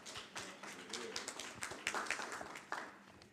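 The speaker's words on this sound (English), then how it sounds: "Let's give a round of applause to this organization for its commitment to our community and making it better." A crowd at a police pursuit policy event gives a round of applause, a fairly quiet and distant patter of many hands clapping steadily for a few seconds with no talk over it.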